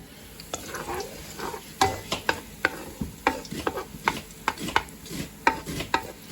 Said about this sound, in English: I'm just frying the garlic in hot oil